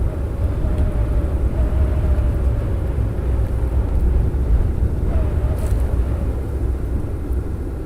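An EasyJet airliner arriving at Amsterdam Schiphol Airport, a steady broad jet roar from fairly close that holds at an even level throughout, with no talk over it.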